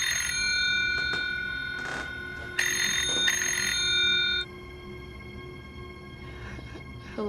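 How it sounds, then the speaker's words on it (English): A phone rings in a horror short film, sounding as bright repeated electronic tones in short bursts over a quiet background, then fading to softer faint chimes. "I thought her phone was going off,"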